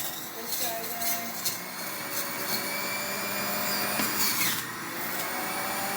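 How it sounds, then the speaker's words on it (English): An electric juicer whirs steadily as celery is fed through it, a constant motor drone with faint squeaks and rubbing from the stalks. "So I'm going to go ahead and juice this up"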